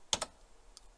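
A computer keyboard gives two quick, crisp keystrokes close together and then a softer third tap as a line number is typed in a code editor. The taps are near and clear over quiet room tone.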